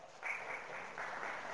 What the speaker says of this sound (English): I like claps. Those are nice.